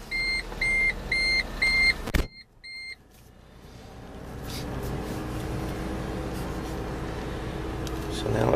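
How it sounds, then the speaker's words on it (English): A 2014 Smart Fortwo coupe starts up. A repeating chime beeps first, then a click is followed by the engine catching, and a steady hum rises and settles into a constant idle. "I'm going to go ahead and hop in this side and start it up."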